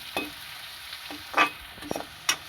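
Cabbage frying a little at a time in a pan, a quiet low sizzle punctuated by several scraping stirs and clinks of a utensil.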